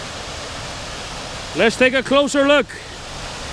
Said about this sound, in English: here's the waterfall. Beautiful waterfall. It falls down like water should fall.